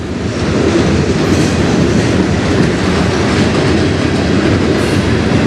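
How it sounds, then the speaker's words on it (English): An industrial freight train runs on a side track off the main line of the Strathroy Subdivision, its steady rumble and wheel clatter loud and continuous throughout. "That's an industrial train."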